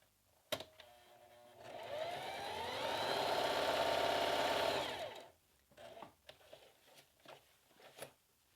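A sewing machine stitches through two layers of bulky stretch denim in one steady run of about four seconds, its motor whirring up and then winding down, followed by scattered handling clicks and taps nearby.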